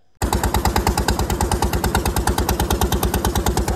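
A motor boat engine chugs on a river through tree-lined banks, starting abruptly and keeping a loud, fast, even rhythmic thump close by.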